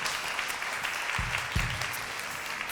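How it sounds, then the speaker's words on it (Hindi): A studio audience at a Ramadan TV debate show claps steadily, a dense continuous wash of applause with a couple of louder thumps near the middle. "बहुत सारी तालियां बहजत के लिए।"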